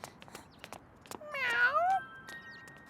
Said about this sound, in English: A cat. Were you abandoned?